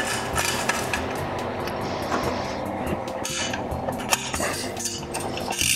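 Clamp bolts on a CTS charge pipe are snugged down on a BMW N55 engine, giving close metallic clinks and tool rattles amid busy workshop clatter.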